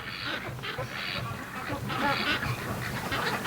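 Free-range ducks sheltering in cold weather give scattered soft quacks, muffled and blended into a constant broad background noise.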